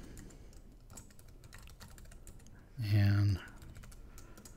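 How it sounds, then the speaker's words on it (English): A name being typed on a computer keyboard in a quiet room, steady light clicks close by, cut briefly in the middle by a short spoken word. "I'm going to type in my name."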